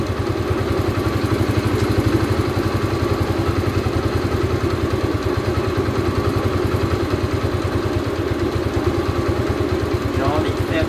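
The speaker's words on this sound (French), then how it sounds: "Le ralenti est un peu bas là par contre" A motorcycle idles low and slightly uneven after winter storage, its rapid, steady engine pulses close and loud across the whole stretch, with no clear speech over it.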